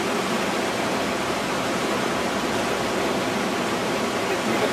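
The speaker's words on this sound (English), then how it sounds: "If I move this rock, you'll be able to see just how that water moves up and over." Steady rushing of water pouring up and over the riffles of a gold sluice box set in a stream, a dense, continuous wash that stays loud and close with no voices.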